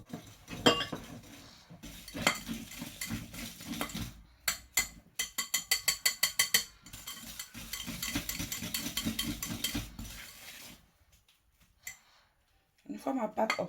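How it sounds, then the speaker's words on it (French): Butter and sugar are mixed in a large bowl, with the utensil clinking and scraping against the bowl in quick, rhythmic bursts and short pauses. A voice speaks now and then over the mixing. "Dans un grand bol, j'ai ajouté mon beurre ainsi que le sucre. Je vais venir mélanger le tout pour obtenir une belle pâte."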